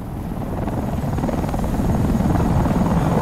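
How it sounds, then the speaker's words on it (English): A helicopter in Batman: Arkham Knight, heard as a loud, close rotor chop with a rapid thudding pulse over an engine drone. It grows gradually louder as it approaches, with no speech. "Chopper?"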